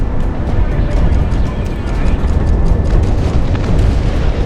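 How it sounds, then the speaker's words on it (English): Heavy cannon fire in the aerial combat game Project Wingman, dense booming explosions and bursts with a deep rumbling low end, loud and close, over continuous engine roar. "you can see more of that heavy cannon at work"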